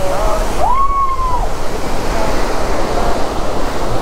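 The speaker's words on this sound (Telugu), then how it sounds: "వాటర్ ఫ్లో మరీ ఎక్కువైనట్టుంది," Heavy water pours through the gates of Srisailam dam in a loud, unbroken roar that fills the whole scene, with a brief whistle-like tone rising early on.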